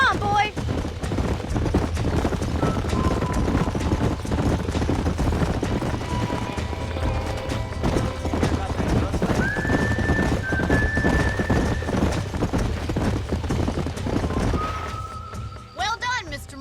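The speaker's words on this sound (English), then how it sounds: "These are fine horses." Horse hooves clip-clop at a steady pace amid busy ambience on a ranch in the video game Red Dead Redemption, with occasional whinnies and distant gunfire mixed in.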